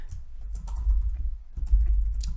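Fingers tap a computer keyboard in a quick, uneven run of close clicks and clacks with brief pauses, no voice over it.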